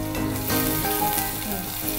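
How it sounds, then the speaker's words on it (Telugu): Onions and cashews fry in a hot pan, giving a steady, close sizzle that crackles and pops with the odd stir, and no voices are heard. "ఇప్పుడు ఆనియన్స్ కంప్లీట్గా ఫ్రై అవ్వాలి."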